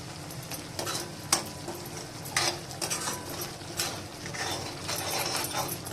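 Cluster bean and potato bhaji, just salted, stirred in a pan with irregular scraping strokes and soft clatter over a faint sizzle, close and alone without voices.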